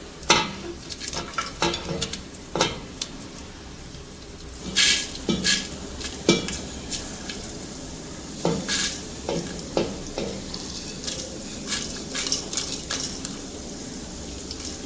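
Steady sizzling of whole spices frying in hot oil for beef yakhni, with intermittent stirring clinks and scrapes against the pan.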